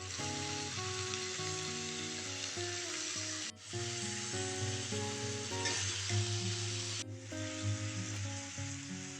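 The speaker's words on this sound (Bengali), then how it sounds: "মোটামুটি আমি ভালোভাবে নেড়ে চেড়ে আরও বেশ কিছুক্ষণ এইভাবে ভেজে নেব সবজিগুলো" Tomato, potato and mixed vegetables sizzling steadily in a pan, a continuous close hiss of frying heard beneath background music throughout, without speech.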